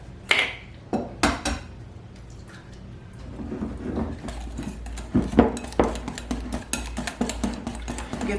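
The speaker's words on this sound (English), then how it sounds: "Now I'm going to add the eggs and whisk those in." Eggs are whisked into honey and oil for blueberry muffin batter, with clinks and scraping taps of a whisk against a bowl, sparse at first, then a quicker run of clatter, fairly near.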